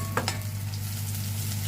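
Bajji fritters in a gram and rice flour batter frying in rice bran oil, a steady close sizzle with a couple of brief stirring clinks near the start.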